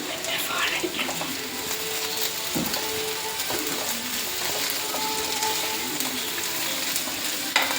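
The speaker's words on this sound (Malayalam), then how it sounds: "ഒരു മിനിറ്റ് ഒന്ന് ഇളക്കി കൊടുക്കാം." Stirring a frying pan as chili flakes are mixed into food, with curry leaves to follow, giving a steady close sizzle with soft scraping and clinking of the spoon throughout.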